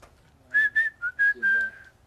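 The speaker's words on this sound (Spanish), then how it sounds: "silbar." A person whistles a short tune of five clear, pitched notes, close and crisp, the last held longest, with quiet room hum beneath.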